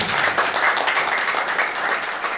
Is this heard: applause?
yes